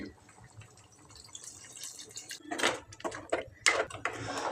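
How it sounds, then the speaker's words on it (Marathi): Half a glass of water goes into a pan of chicken with tomato puree and spice paste, heard as a few short splashing, hissing bursts mixed with light stirring clinks, close and fairly quiet. "अर्धा ग्लास पाणी घालते"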